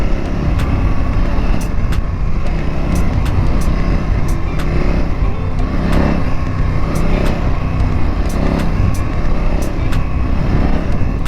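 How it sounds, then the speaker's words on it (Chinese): Revving a CFmoto 800NK motorcycle brings a continuous loud engine drone with frequent crackling exhaust backfire pops scattered through it, some clustering in quick bursts. "哇，它这个给点油，它就有回火的声音啊。"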